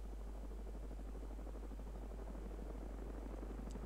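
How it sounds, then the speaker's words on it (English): Helicopter arriving in the military game Arma 3, a steady rotor chop and engine drone holding loud and fairly close throughout, with no talk over it. "And it's telling us the helicopter's coming in."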